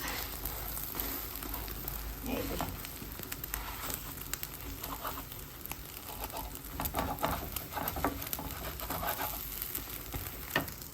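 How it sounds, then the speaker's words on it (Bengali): Eggs fry in a pan with a steady, soft crackling sizzle and light patter of popping oil, continuous and fairly quiet throughout with occasional louder spits. "আরও ডিম ভাজি করে নিচ্ছি"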